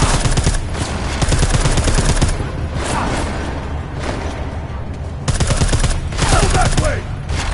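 Automatic gunfire in the Deus Ex: Mankind Divided video game, loud rapid bursts of shots in close succession with brief pauses between volleys.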